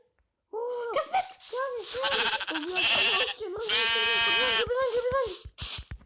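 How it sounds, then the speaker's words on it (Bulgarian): Sheep in the Minecraft video game bleat repeatedly and loudly, with wavering cries overlapping animated excited voices throughout. "Овце!"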